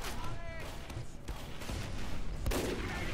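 Rapid video-game gunfire body-shotting a sentry, with sharp repeated shots and booms over continuous game noise while a voice talks throughout.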